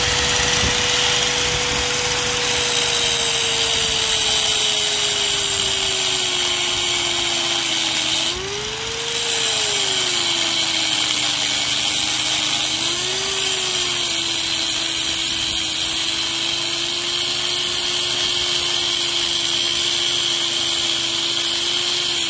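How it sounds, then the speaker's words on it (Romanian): Power saw running with a steady engine drone from a generator nearby, pitch sagging and recovering as the blade bites into wood, loud and continuous with a brief dip midway and no voices. "mi-am luat generatorul de acasă ca să pot să tai"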